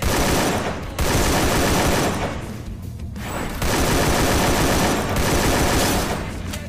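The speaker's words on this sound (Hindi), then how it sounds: "अब मेरे पे भाई वो ओपन में आके फायर कर रहा था" Sustained automatic gunfire in the Free Fire battle royale game, loud and dense bursts that run almost without pause, broken by a couple of brief gaps before the shooting resumes.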